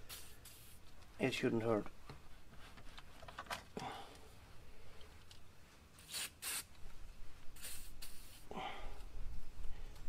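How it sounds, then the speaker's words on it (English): Several short hissing bursts from a WD-40 spray can on a vintage Union bicycle, close by, with a person talking between and around the sprays. "But I will spray on a bit of WD-40."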